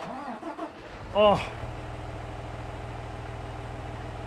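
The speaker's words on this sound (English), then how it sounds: "give you the sound of this beautiful tractor firing up in 3, 2, 1" A tractor in Farming Simulator 19 cranks and fires up with a brief loud surge, then settles into a steady, throbbing diesel idle, following a short spoken exclamation.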